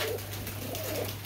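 A Sialkoti pigeon coos softly in a short, low, throaty burst, close by with a steady background hum.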